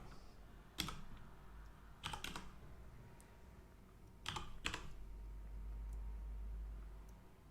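Close, quiet typing on a computer keyboard comes in a few short bursts of sharp key clicks separated by pauses, over a low steady room hum.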